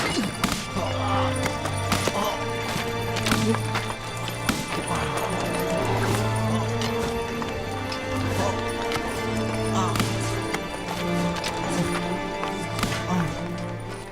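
A horse's hooves clip-clop in repeated uneven beats over a dramatic dubbed film scene, mixed with a low sustained musical drone and occasional thuds.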